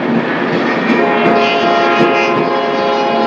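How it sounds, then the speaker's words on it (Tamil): Steady rail ambience at Kilambakkam railway station in Chennai, a continuous rumble of train cars rolling past with faint metallic clatter and a sustained horn-like tone, no voices. "நான் நிற்கிறது பார்த்தீங்கன்னா ஊராப்பாக்கம் ரயில்வே ஸ்டேஷன் கிடையாது, கூடுவாஞ்சேரி கிடையாது, கிளாம்பாக்கம் ரயில்வே ஸ்டேஷனுங்க"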